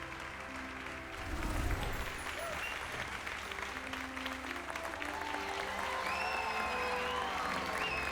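A crowd cheers and claps in Hogwarts Legacy, a steady swell of applause that rises after a low thud and continues under game music and faint whistling tones.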